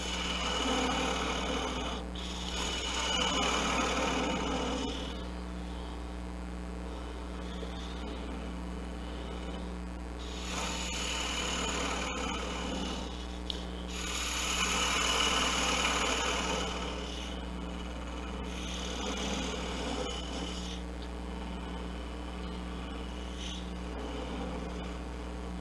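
A small wooden gnome nose is turned on a lathe, with soft scraping bursts of the tool against the spinning wood coming in waves over a steady low motor hum.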